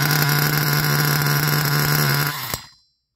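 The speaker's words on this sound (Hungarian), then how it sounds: "És leállt a motor." A car engine idles with a steady, close hum and rattle for a couple of seconds, then cuts out with a short clunk and falls silent.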